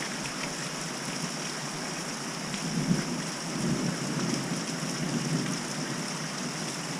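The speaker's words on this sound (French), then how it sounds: "Il y a comme qui dirait de l'orage dans l'air." Rain pours steadily during a humid thunderstorm on the Shikoku pilgrimage route in Japan, with a low rolling rumble of thunder swelling midway and fading back into the constant hiss of rainfall.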